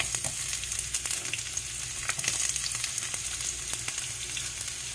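Onions and curry leaves frying in hot oil for an okra and coconut dish, a loud, continuous crackling sizzle with small pops throughout, no voices.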